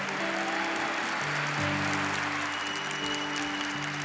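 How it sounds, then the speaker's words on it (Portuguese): An audience gives a standing ovation at a Catholic talk, sustained clapping spread across the whole stretch while sustained musical tones from a keyboard or organ play underneath. "Isso, pode aplaudir de pé."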